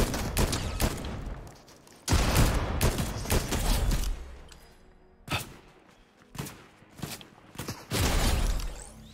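Bursts of rapid gunfire in the video game Fortnite crackle in clusters, some long volleys and some short pops, with dull impacts between them; no voices.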